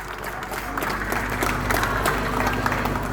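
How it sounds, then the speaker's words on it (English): A crowd at an outdoor justice march rally applauds the organisers, giving a steady, dense wash of clapping that holds at an even level throughout. "give the organisers a big round of applause"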